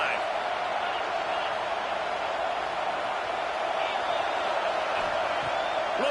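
Steady stadium crowd roar in College Football 26 during a Texas vs South Carolina game, a continuous dense wash of cheering with swells, playing under commentary throughout.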